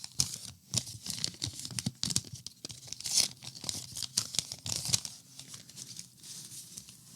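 A 1987 Topps baseball card pack is torn open up close, with quiet, crisp wax-paper rips and crinkles coming in irregular bursts, then softer rustling and shuffling of the cards as they are handled.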